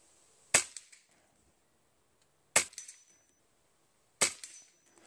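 Three sharp pellet shots from an Air Venturi Avenger PCP air rifle firing 25.4 grain heavy pellets, each a crisp snap with a short ringing tail, spaced about two seconds apart with quiet between.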